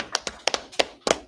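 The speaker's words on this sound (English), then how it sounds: "Clap it up for them." Scattered hand claps from a small congregation at a Sabbath service class, about eight sharp slaps in quick irregular bursts, fairly close and moderately loud, with no voices over them.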